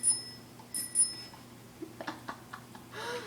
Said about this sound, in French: La sonnette de vélo.